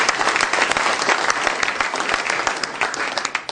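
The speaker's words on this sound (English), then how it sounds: "Let's give yourselves a round of applause." Loud, dense applause fills a room at a school district foundation superintendents' breakfast, an unbroken roar of many hands clapping together throughout.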